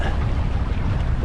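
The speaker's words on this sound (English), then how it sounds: "Bit of a gust there." Wind gusts hard against the microphone aboard a small sailing boat on a January sail from Brancaster to Thornham, a loud, steady rumble with water sloshing beneath and no talk.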